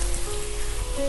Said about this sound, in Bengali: আর দিয়ে দেবো এতে ভেজে রাখা চালটা, দিয়ে দিলাম